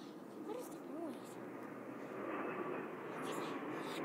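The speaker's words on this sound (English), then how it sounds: "Airplane!" An airplane passes overhead as a steady, broad engine roar that fills the whole stretch and swells slightly toward the end, with a voice speaking briefly over it early on.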